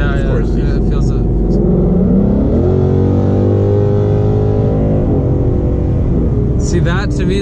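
A 2018 Ford Mustang GT with a ten-speed gearbox and Corsa exhaust revs loudly nearby, its engine note climbing and falling in pitch in steady pulls.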